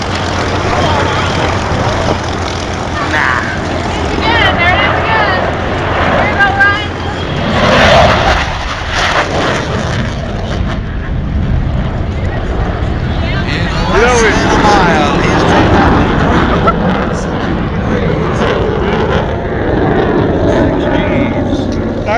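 Navy jet aircraft flying past at an airshow, a loud, sustained engine roar swelling and fading over about twenty seconds, with crowd chatter mixed in underneath.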